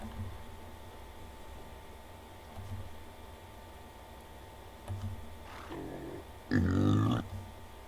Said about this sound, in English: I can't tell if that was a grunt or a belch out of that pig.